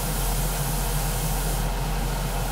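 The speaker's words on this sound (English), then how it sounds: "I'm still spraying at high compared to a lot of people" An airbrush spray gun mists thinned paint onto a model kit at around 15 psi, giving a continuous, even, close hiss with no breaks.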